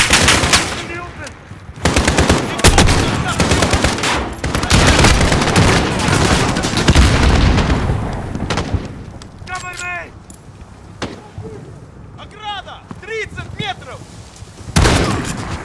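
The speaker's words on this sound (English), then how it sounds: "Dude, this is a shotgun." Weapon fire in Call of Duty: Modern Warfare on PC, loud repeated shots with booming blasts over the first half, then quieter sporadic pops and game effects, with voices talking over the action.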